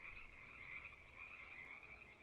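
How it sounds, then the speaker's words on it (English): Frogs croak steadily at a lake in the Ultimate Fishing Simulator video game, a continuous faint chorus with no voices over it. "We got frogs."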